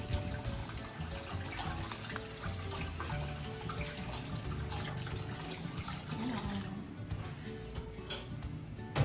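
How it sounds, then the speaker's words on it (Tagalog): Water runs and splashes steadily into a cooking pot for several seconds, a continuous close pouring noise with light clinks. "Magdadagdag na tayo ng tubig."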